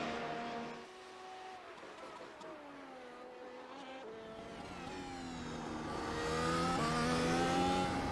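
A Mercedes-AMG W12 Formula 1 car in iRacing on a hot lap at Imola, its engine whining through rising and falling gear changes as it climbs and shifts, loud and continuous, with no talk over it.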